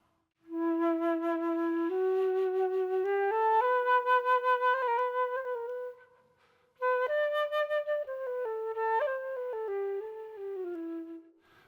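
Solo concert flute played in its low register, a warm breathy melody of sustained notes moving stepwise, with a brief pause near the middle before the line resumes, close and clear with no talking.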